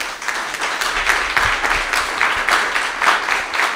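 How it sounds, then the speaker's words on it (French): Audience applause at an annual conference in a hall, a steady patter of clapping hands at moderate level holding evenly throughout. "avec un applaudissement, nous remercions tous ensemble."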